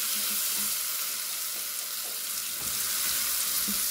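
Garlic, coriander and black pepper fry in ghee with a constant, close crackle and sizzle and an occasional light stir, with no voices.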